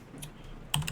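A few quick keystrokes on a computer keyboard while a prompt is entered into ChatGPT, close and faint, one light click followed by a short cluster of taps, with no talking.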